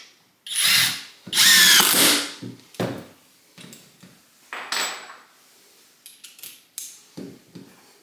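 A cordless power drill set to speed 2, in self-tapping mode, drills holes into material of several sizes. Loud whirring bursts of a second or so come first, then shorter spurts and clicks with gaps between them.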